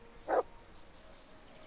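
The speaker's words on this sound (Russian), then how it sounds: "Так, а где собака? Вот она." A dog in the video game Kingdom Come gives a single short, sharp bark, fairly close, over a quiet background hum.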